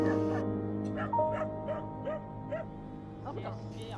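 Dogs at a slaughterhouse in Jilin Province whimper and yelp in short, rising cries that repeat over a steady low hum, with faint barks mixed in.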